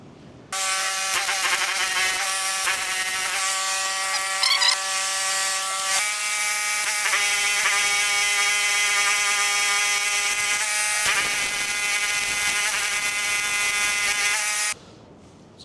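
Steel slurry equipment parts being arc welded, a loud, steady buzzing crackle that runs nearly unbroken for about fourteen seconds, close by, with no talk.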